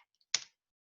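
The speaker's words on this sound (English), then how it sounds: "Darn it, I hit enter." A single sharp computer keyboard key press as the enter key is struck, one brief close click in an otherwise quiet room.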